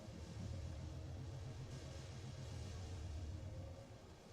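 Steady, low engine rumble from a car in a competitive online video game, holding fairly level for the whole stretch with no voices over it, easing off slightly at the end.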